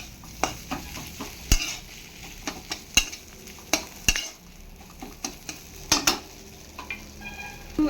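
A spoon scrapes and knocks repeatedly against a wobbling pan while rui fish mash cooks, sharp irregular clacks over a low background sizzle, close and fairly loud with no talking.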